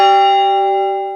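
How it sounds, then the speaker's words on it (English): A single strike of the church bell at St. Peter Claver rings out loud and clear, its bright tone slowly fading over about a second with no voices. "Stanley's been ringing the bell at St. Peter CLAVER"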